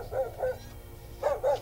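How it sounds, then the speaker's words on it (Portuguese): A dog that is tied up in a rural area of Amazonas state, near flooded streets in Manaus, barks in two pairs of short sharp barks. The barks are spaced by a pause and come from a moderate distance over low background rumble. "O cachorro está preso."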